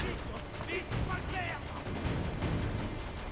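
Gunfire in Assassin's Creed 3, a cluster of blasts and booms over a noisy game backdrop, with a person talking at the same time.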